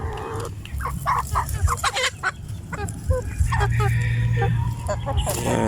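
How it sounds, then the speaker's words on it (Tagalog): Heritage chickens cluck in a farmyard in a quick run of sharp, close clucks and squawks, with a steady low hum beneath and other birds calling. "Praktisin natin sila mga kaputak."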